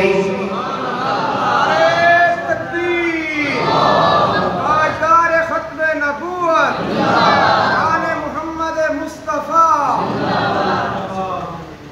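A crowd at a Mawlid an-Nabi religious gathering shouts slogans in loud, repeated chanted bursts. The voices rise together in waves, close and forceful, with a leading voice calling between them.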